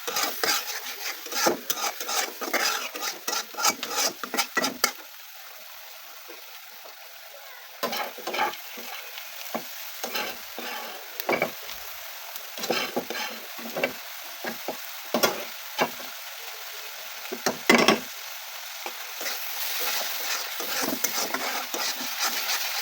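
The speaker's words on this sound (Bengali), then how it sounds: "এখানে সব ধরনের মশলা দিয়ে দিলাম একটু কষিয়ে নেব যেন পুড়ে না যায়" Spices stir-frying in a pan, with a soft continuous sizzle broken by repeated sharp scrapes and clinks of a utensil against the metal, a brief lull near the middle, and no voices.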